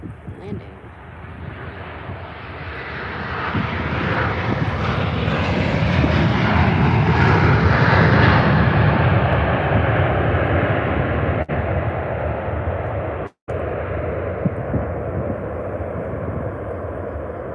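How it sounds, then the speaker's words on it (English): A Ryanair airliner lands at Faro Airport with a loud, steady jet roar that builds to a peak midway, then eases off. Wind buffets the microphone throughout, and there are brief dropouts near the end. "Ryanair landing."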